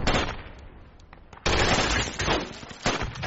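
Gunfire in the tactical shooter game Project Reality, with scattered shots at first, then a loud burst of sustained automatic fire and more volleys close by.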